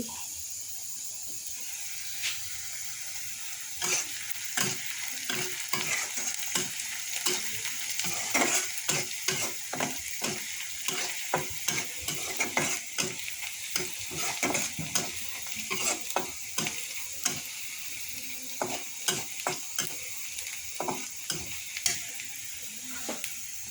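Onion frying in a pan, a quiet continuous sizzle broken by frequent sharp scraping stirs that grow busier midway, heard alone without talk.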